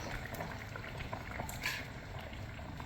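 Mackerel fish curry with coconut boiling in a clay pot, giving a steady close bubbling and simmering that continues evenly throughout, with no voices.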